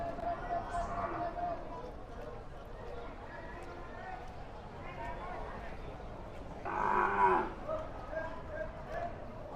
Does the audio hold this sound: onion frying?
no